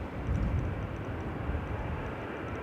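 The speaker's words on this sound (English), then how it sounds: "Oh, reverse thrust is in." Airliner landing at Manchester Airport with reverse thrust engaged, a broad, steady jet-engine roar heard from a distance with no talking.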